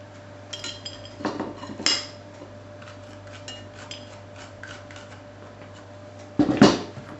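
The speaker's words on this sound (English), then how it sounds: "you need to scoop the seeds out and get rid of them" A sturdy spoon scrapes and clinks against the inside of a butternut squash as seeds are scooped out, a few sharp scraping strokes early on and another loud scrape near the end, close by in a quiet kitchen.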